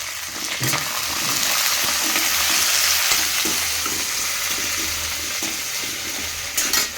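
Curry leaves crackling in hot oil with onions and green chillies for puffed rice upma, a loud continuous sizzle with bursts of popping and occasional stirring, close up, no speech.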